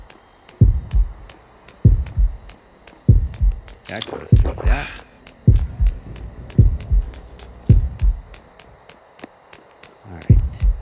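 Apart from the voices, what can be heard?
heartbeat warning that the killer is coming, Horrorfield video game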